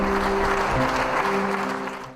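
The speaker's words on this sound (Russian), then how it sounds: "Аплодисменты не смолкали" A concert hall audience applauds at Madina Kvaratskhelia's solo concert, a dense, continuous wash of clapping heard close and fairly loud, with a faint sustained tone underneath, that ends abruptly.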